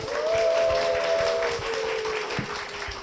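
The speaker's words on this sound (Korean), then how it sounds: "박수로 모시겠습니다" Applause from a church congregation welcoming a deaconess to the stage, a dense clatter of claps running steadily throughout with a sustained tonal hum over it.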